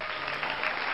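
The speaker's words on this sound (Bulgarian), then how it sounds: "това смятам, че за тия аплодисменти ги заслужавам" A brief burst of applause, dense clapping from a crowd lasting about a second.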